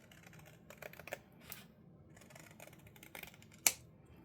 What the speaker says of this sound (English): I am going to trim all the way across